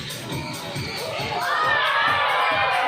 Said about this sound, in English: How about a big round of applause for Andre and of course, Trader Ronnie, our lucky champions.